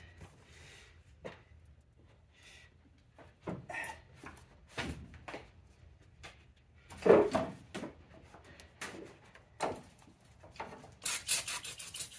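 A metal mounting plate on a Bronco engine is scrubbed clean by hand in quiet, irregular bursts of rasping and rubbing strokes, with short pauses between and a louder flurry of scraping toward the end.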